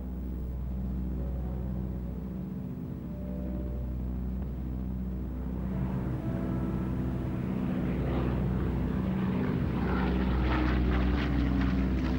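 Propeller aircraft engines drone steadily throughout, a dense continuous rumble of several planes that swells a little louder and brighter partway through, with no voices.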